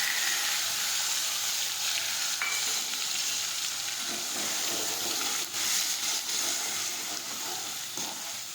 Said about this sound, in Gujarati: કાંદા, લસણ, મરચી અને આદુની પેસ્ટ નાખી દઈશું.